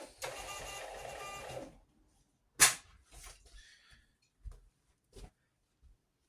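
Home printer printing a second-class large letter postage label: one short whirring, rasping burst, then a few faint clicks and handling knocks in a quiet room.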